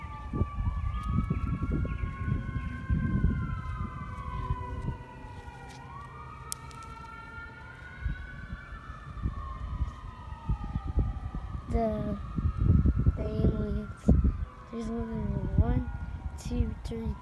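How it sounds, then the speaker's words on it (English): Several police car sirens wailing at once, their rising and falling tones overlapping and sweeping continuously over street noise and rumble, fairly close and loud throughout. "There's 1, 2, 3 police cars."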